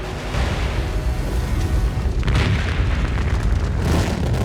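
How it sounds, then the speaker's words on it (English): A deep, sustained rumbling roar like a massive blast, heavy and continuous, with crackling bursts and low booms rolling through without pause. "The initial explosion is heard more than 200 miles away"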